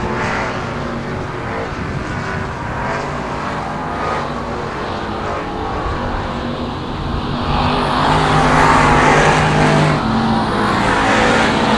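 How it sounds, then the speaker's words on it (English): Stock cars racing in a heat on a dirt oval, their engines roaring in a continuous loud drone that swells as the pack draws nearer, with no talk over the noise. "And now Shetler's going to drift way up the racetrack"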